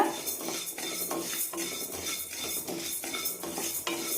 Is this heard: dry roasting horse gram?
yes